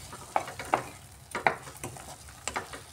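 Masala being stirred and fried with a splash of water in a pan for an omelette curry, a soft steady sizzle broken by several sharp spoon scrapes and taps at irregular intervals.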